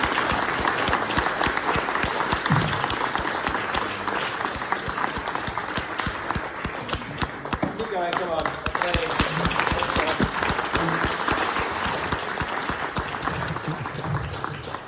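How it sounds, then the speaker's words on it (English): A large audience gives performers a long, loud round of applause after a music performance, the dense clapping continuing steadily throughout with some voices heard beneath it. "we'll give them a huge round of applause"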